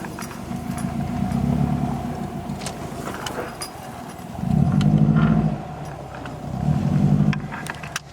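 A Subaru STI engine hums steadily while driving, with the low rumble swelling louder in a few stretches as it revs, close and continuous.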